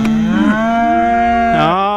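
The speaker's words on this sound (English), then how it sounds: "Come on, cows!" Farm cows moo in two long, loud bellows, the first near the start and a second rising call about a second and a half in, each close by with a steady rich drone between them.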